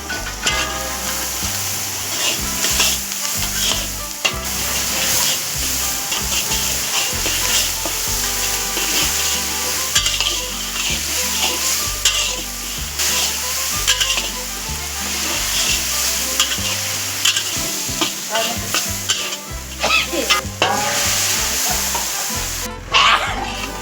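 Garlic-ginger paste fries in a pan under loud, continuous sizzling and stirring, while a strong rhythmic low thumping pulses beneath it the whole time; no voices.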